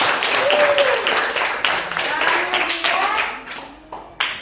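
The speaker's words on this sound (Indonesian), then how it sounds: "Tepuk tangannya mana?" Applause breaks out in a classroom during a student-teacher's mathematics lesson, a steady patter of clapping running throughout with voices speaking over it.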